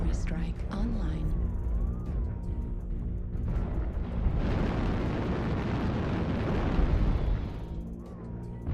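Artillery strike explosions in the MechWarrior Online game rise into a dense, sustained roar of rumbling blasts lasting several seconds, preceded and followed by game sounds and a synthetic voice.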